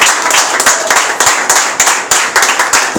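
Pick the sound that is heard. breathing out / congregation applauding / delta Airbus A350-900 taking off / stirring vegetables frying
congregation applauding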